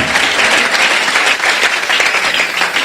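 A church congregation of young people applauding to acclaim the Lord, loud, close and steady clapping from many hands filling the whole stretch.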